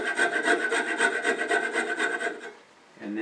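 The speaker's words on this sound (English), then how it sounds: "So I'm going to go ahead and just saw right here." A hand saw cutting through a wooden dowel, rhythmic back-and-forth rasping strokes, close and steady, then stopping briefly before another stroke begins.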